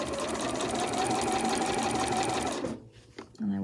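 A sewing machine runs steadily at speed for more than two seconds while stitching fabric, then stops. A brief clatter follows before a person starts speaking.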